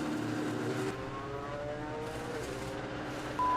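A Ford GT race car engine at Le Mans drones steadily at a fairly low level, with a sustained tone and a slight rise in pitch, and no voices over it.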